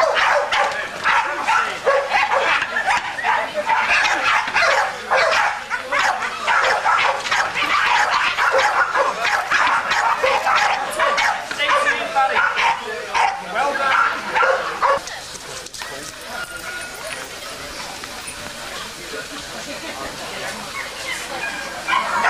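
Staffordshire bull terriers at a 1992 Liverpool dog show bark and yip in rapid repeated bursts, loud and close, for about fifteen seconds before quieting, with people talking in the background.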